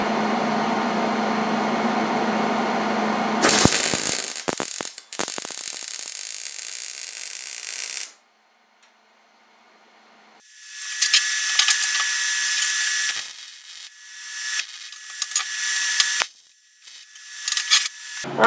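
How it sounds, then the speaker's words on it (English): Welding a joint on a homemade welding third hand gives loud bursts of harsh, crackling buzz, broken by a long silent pause before the arc crackles again in uneven stretches. "now I'm just going to put a weld on there"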